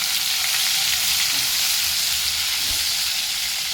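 Finely chopped tomato frying in a pan with hing, a steady dense sizzle that runs unbroken and fairly loud throughout, with faint stirring scrapes.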